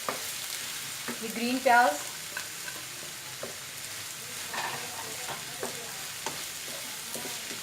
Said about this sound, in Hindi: अब इन दोनों चीज़ों को 2 मिनट फ्राई कर लें